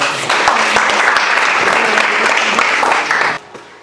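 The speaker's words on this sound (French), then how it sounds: "Merci d'applaudir" Sustained applause from an audience at an entrepreneurship training session, a dense, steady wash of many hands clapping that cuts off abruptly near the end, with faint voices underneath.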